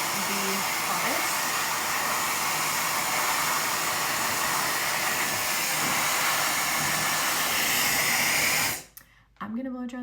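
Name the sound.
hair dryer blowing on hottest setting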